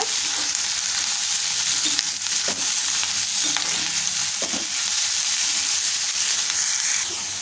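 Chopped capsicum is stirred into a hot, sizzling tempering in a pan, with a loud, steady frying hiss and scraping stirs running throughout and no voices.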